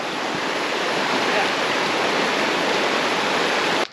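A loud, unbroken roar of falling water at a waterfall in Mondulkiri, Cambodia, heard up close and steady throughout before stopping abruptly.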